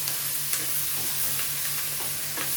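Onions and mushrooms fry in a pan with a loud, continuous sizzle and hiss, close up, with faint stirring scrapes under it and no voices.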